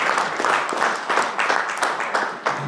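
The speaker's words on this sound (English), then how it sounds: "please let us put our hands for all these assignments and give them a big round of applause" Audience clapping at a youth leaders meeting, a moderately loud round of applause with distinct hand claps in loose rhythm continuing throughout.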